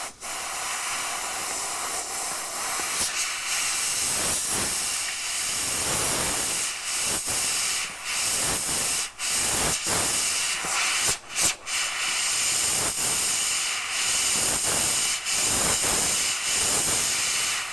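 Airbrush running at cranked-up high air pressure for freehand fire artwork, giving a steady, close, loud hiss of spraying air with brief dips and short bursts as the trigger is worked, no voices.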